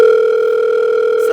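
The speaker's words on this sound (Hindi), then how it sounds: "सर आपका फोन आ रहा है।" A mobile phone rings with a loud, steady electronic tone held evenly throughout, close and clear, with no voices over it.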